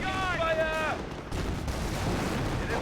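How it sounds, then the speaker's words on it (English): Distant artillery booms and gunfire from the WWII strategy video game Company of Heroes, a rumbling battle bed under a short whistling tone, with a commentator speaking over it. "Oh, he's gone for artillery"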